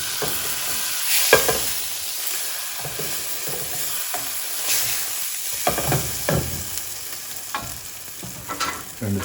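French toast frying in a hot pan, a constant close sizzle and hiss with intermittent scraping and shifting bursts from the spatula, fairly loud throughout.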